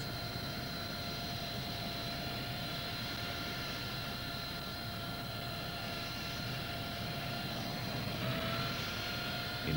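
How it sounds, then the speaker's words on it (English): A Harrier jump jet accelerates into forward wing-borne flight, its engine a steady, fairly faint whining roar with sustained tonal hum that swells slightly near the end. "The aircraft accelerates forward and reaches normal wing-borne flight speed."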